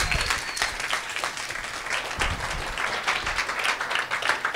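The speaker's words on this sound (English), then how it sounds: "Let's give another big round of applause for the first half speakers." An audience breaks into loud, sustained applause after a presentation at a biodiversity talk event, with many overlapping claps and no speech.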